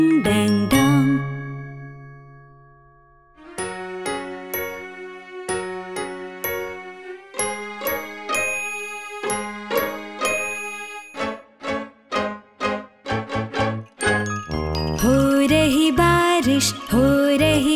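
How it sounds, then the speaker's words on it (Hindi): A melodic run of chiming, bell-like tones in a Hindi children's rhyme, clear ringing notes in a tune with a brighter flurry of tinkling toward the end. "सुबह की घंटी बजती"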